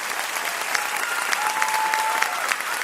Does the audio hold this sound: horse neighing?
no